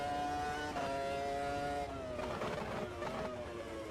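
A Formula One car's engine screams in the racing game Automobilista 2, a high, loud revving whine that rises and shifts pitch through gear changes, sustained and close.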